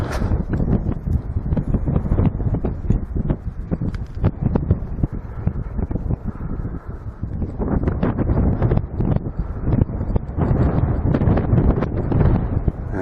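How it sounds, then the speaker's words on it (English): Strong crosswind at an outdoor long-range rabbit shooting spot roars and buffets across the microphone in continuous gusty rumbles, loud and close throughout with no other sounds standing out. "Very windy, hope it's not too much wind noise."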